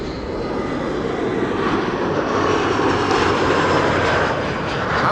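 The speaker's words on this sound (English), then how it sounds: "This is KLM flight 1352 arriving from Prague in the Czech Republic" A KLM Embraer jet on arrival at Amsterdam Schiphol roars steadily and fairly close, its broad engine rumble holding level for the whole stretch with no voices.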